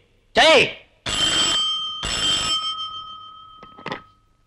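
A telephone rings in two long electronic bursts, loud and close, after a short exclamation. A brief tone follows at the end.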